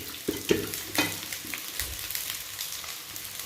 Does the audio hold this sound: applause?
no